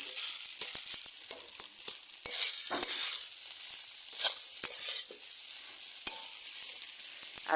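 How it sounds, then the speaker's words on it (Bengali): Cooked rice fries in a pan for fried rice, sending up a continuous bright hiss with small pops and occasional stirring scrapes, close and steady. "আমি এখানে ভাতটা ভেজে তারপর আমি মাছটা ভেজে নামিয়ে নেব"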